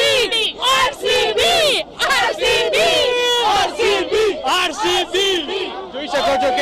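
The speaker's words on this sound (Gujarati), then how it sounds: "લોકો જે ચીયર્સ કરી રહ્યા છે, તમામ લોકો કે જે આરસીબી ને ચીયર્સ કરતા કરતા" Cricket fans at an IPL final in Ahmedabad chant loudly and rhythmically for RCB, a massed crowd of voices rising and falling in repeated cheers right up close.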